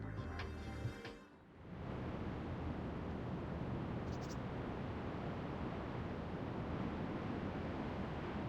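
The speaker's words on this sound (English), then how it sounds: "The map itself in Battlefield 2 doesn't have much in the way of ambient sounds, other than a light windy breeze" Steady light windy breeze on Wake Island in Battlefield 2, a constant broadband outdoor wash that holds evenly after a brief dip near the start, with no voices.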